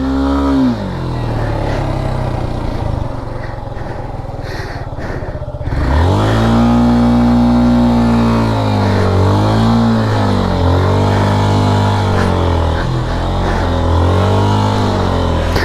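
A loud engine revs hard up close, its pitch swooping up and down in repeated surges after a brief lull, roaring continuously for over ten seconds.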